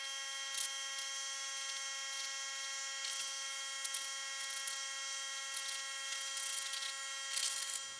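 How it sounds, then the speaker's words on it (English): Compressed air hisses in short bursts while a shop vacuum whines steadily, cleaning out a DR trimmer mower; the motor hum stays constant with a few sharper blasts. "I think I'm going to go ahead and blow some air in and vacuum that all out"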